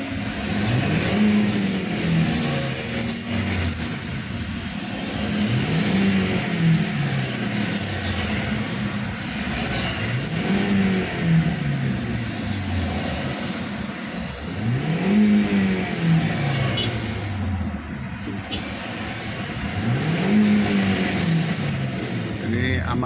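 A Toyota Avanza with a 1300 cc engine, freshly decarbonized, is revved repeatedly: about five rising-and-falling revs spaced several seconds apart, each swelling from idle and dropping back, loud and close under a steady idle.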